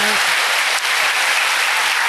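A church congregation claps steadily and loudly to give glory to God at a worship service, a brief dense burst of applause with a voice heard faintly at the start.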